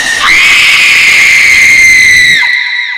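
A loud, piercing scream sound effect for a radio trailer, one sustained high shriek held for over two seconds before it abruptly cuts off.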